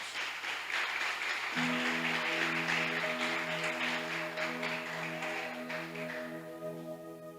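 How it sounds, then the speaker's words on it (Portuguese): Church congregation clapping together in a steady broad wash, with sustained organ or keyboard tones entering partway through and carrying under the applause. "dê a melhor salva de palmas para Jesus"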